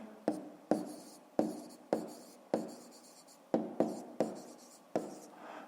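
A pen writes math notes by hand on paper, making about ten quiet, close, separate scratching strokes with short pauses between them.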